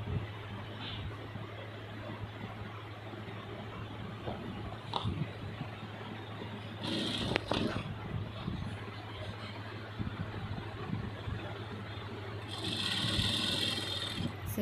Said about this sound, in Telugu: రెండో వైపు కూడా మనము అదేవిధంగా స్టిచ్చింగ్ చేసుకోవాలి